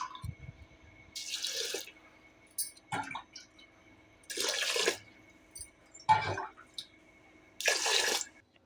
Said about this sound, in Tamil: 16 டம்ளர் தண்ணி ஊற்றிக்கணும்.